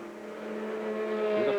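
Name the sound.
Ferrari race car driving at Road America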